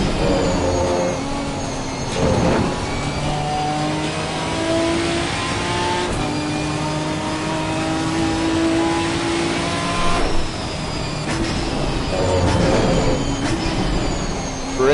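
Ginetta GT4 race car in Assetto Corsa Competizione on a wet track, its engine droning steadily throughout with rising and falling revs and shifting harmonic whine, loud and close with no talk.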